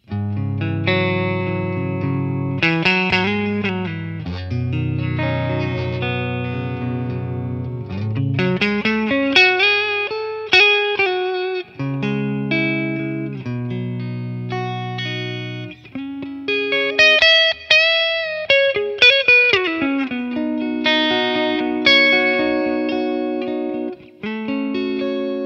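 Electric guitar through a Matchless Laurel Canyon amp capture plays clean chords and melodic phrases drenched in lush reverb, notes ringing out and trailing into a spacious wash.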